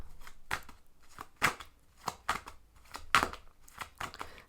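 Tarot cards shuffled by hand, a series of quick crisp riffling bursts and soft slaps at an uneven rhythm, close and fairly quiet with no talking.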